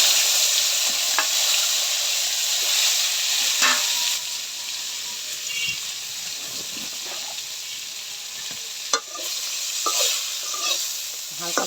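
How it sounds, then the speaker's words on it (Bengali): Broccoli fries in oil left over from frying fish. A bright, continuous sizzle and hiss carries sporadic pops and spatters, with a short dip partway through and no voices. "ওই মাছ ভাজার তেলে আমি ব্রকলিগুলা ভাজা নিব একটু।"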